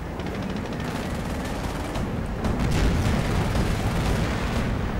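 Continuous gunfire and explosions from a Henschel aircraft strafing run in a World War II strategy game, a dense, steady barrage that grows louder and heavier in the second half, with no talk.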